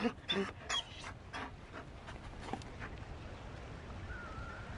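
A Mabari war dog in Dragon Age: Inquisition gives a few short whimpers and yips up front, then pants softly and faintly against a quiet background.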